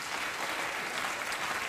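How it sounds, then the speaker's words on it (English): A studio audience at a talk show breaks into steady, moderately distant applause, a dense wash of clapping with no voices over it. "I don't know why you're applauding."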